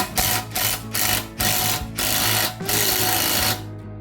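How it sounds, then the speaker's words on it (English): Two-jaw puller being tightened to press out a trailing arm bolt on a 5th-gen Camaro SS, a loud close rhythmic mechanical chattering in repeated short pulses with steady low hum underneath, stopping near the end. "I put a 2-jaw puller on here. I'm going to try to press this through here."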